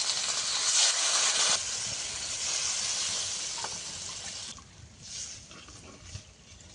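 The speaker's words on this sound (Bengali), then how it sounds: "মশলা ভালো করে কষানো হয়ে গেছে, জল দিয়ে দেবো।" Water is poured into a pan of well-fried spices for a fish curry, producing a loud, close, continuous hiss that gradually eases and fades toward the end.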